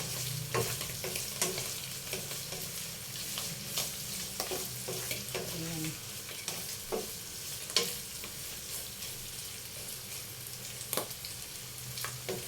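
Ground pork frying in a pan with steady sizzling, scattered sharp pops and scraping stir strokes at close range, with no voices.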